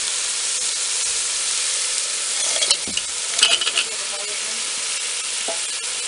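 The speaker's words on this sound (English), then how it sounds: "I just added the karwaru pieces" Karwaru fish pieces frying in curry produce a constant hissing sizzle, with a short burst of louder crackling and stirring in the middle, close and without voices.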